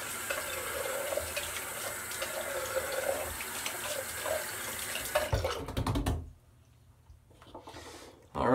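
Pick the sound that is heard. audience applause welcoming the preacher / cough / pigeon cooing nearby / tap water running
tap water running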